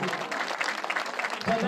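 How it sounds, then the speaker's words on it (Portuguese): Crowd gathered for a religious procession in honour of Our Lady clapping, a short, fairly faint patter of applause heard from a distance. "Palmas a Nossa Senhora!"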